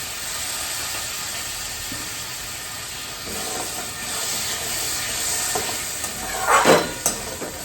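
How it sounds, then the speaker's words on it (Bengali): Spices sautéing in a pan for a Bengali fish curry make a continuous close hiss and sizzle, with soft stirring scrapes and a sharper, louder sputter of spatter near the end. "সব মশলাগুলো ভালো করে কষিয়ে নেব।"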